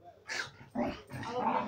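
A beagle gives a few short, close barks and yips in quick succession, brief and moderately loud, with no talking over them.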